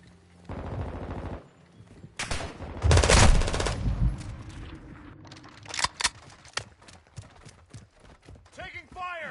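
Gunfire in Modern Warfare 2: rapid automatic bursts and scattered single shots, some loud and close, others farther off. Game voice callouts come in over the firing.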